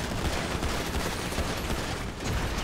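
Rapid gunfire in GTA V Online during a tunnel firefight, a dense, continuous burst of shots with no pauses, loud and close throughout.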